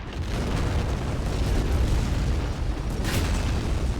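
Anti-tank grenade blast in a WWII tank game, heard as a loud sustained rumbling boom that fills the whole four seconds with no talk over it.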